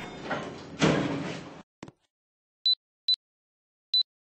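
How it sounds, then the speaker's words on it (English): A sliding lift door in a Roblox game rushes open with a long whoosh and a soft clunk, followed by three sharp, evenly spaced electronic chimes in silence. "Doors opening. Lift going up."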